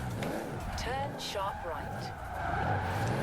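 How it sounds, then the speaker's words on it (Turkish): A car skids with squealing tires in the racing game Forza Horizon 4 during a battle royale mode, with wavering tire whines and engine noise under someone talking excitedly. "Şu arabanın bir kaymasına bak ya. Ne biçim kayıyor."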